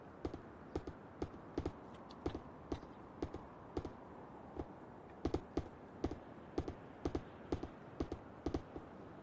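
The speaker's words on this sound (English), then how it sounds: "Who was typing over there?" Computer keyboard being typed on during a role-play game session, heard as a steady run of quick, irregular key clicks close by, with no talking.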